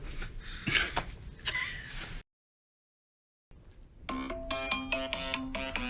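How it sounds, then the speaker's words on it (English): An incoming call ringtone on a phone during a talk show, a repeating electronic melody that starts after a brief silence and continues steadily, preceded by muffled room noise. "Oh, well, we have a call."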